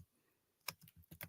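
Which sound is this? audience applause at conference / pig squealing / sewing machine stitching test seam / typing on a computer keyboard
typing on a computer keyboard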